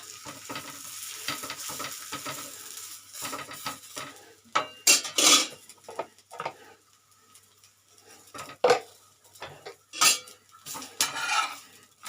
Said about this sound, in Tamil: நான் இன்றைக்கி நெய்யில் சுடுறேன்